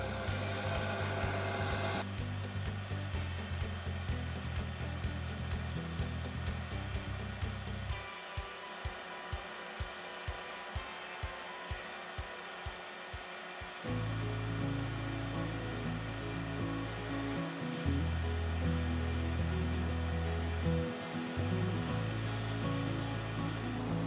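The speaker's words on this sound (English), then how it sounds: "So the noise that you hear now is the blower going" A loud, steady mechanical roar from a large wastewater treatment blower, with a constant low hum and broadband whoosh that shifts slightly in tone partway through.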